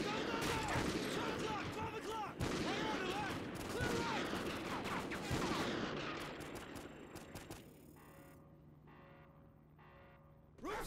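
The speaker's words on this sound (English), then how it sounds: "Use the remote sniper. We'll breach on your shot." Gunfire erupts in the shooter game Call of Duty Ghosts around a remote sniper rifle shot, with loud repeated bursts and impacts over several seconds, then fading into quieter electronic tones, with voices talking underneath.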